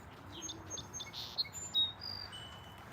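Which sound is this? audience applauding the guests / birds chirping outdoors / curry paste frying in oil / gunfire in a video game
birds chirping outdoors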